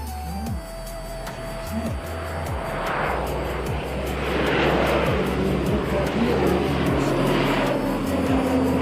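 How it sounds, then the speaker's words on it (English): An Emirates airliner taxiing toward the gate gives a steady jet engine whine and rumble that swells gradually louder, with faint rhythmic ticking underneath. "Emirates goes off to the gate."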